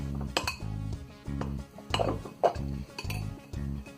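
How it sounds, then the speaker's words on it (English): A spoon stirs fox nuts and other ingredients into honey in a bowl, giving repeated rhythmic clinks and scrapes against the bowl, close and loud, with no talk. "Mix these ingredients well."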